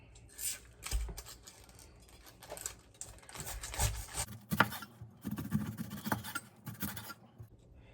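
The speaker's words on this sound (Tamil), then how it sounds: "பாருங்கள், இப்போது இந்த பைனாப்பிளை துண்டு துண்டாக சீவலாம்." A knife cuts a pineapple into pieces for a veggie pizza, giving a string of close, uneven scraping and crunching strokes with short pauses and no talking.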